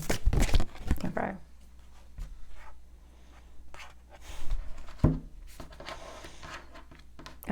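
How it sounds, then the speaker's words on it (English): Tarot cards are shuffled close up in short, papery riffles and slides, arriving in a few separate bursts with quieter gaps between them. No speech is heard over the shuffling. "Let me just shuffle one more time."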